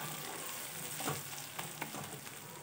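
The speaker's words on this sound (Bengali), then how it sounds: "লঙ্কার গুঁড়ো, হলুদ আর লঙ্কার গুঁড়ো দিয়ে ভালোভাবে একসঙ্গে কষিয়ে নেব।" Chili powder and turmeric fry in rendered goat fat for a jackfruit curry, giving a dense, loud, continuous sizzle with a few brief stirring scrapes.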